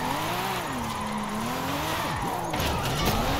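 A car drifts in the racing video game Forza Horizon 5 through a long drift zone, its engine whining at a steady, wavering pitch while the tires squeal continuously, loud and close.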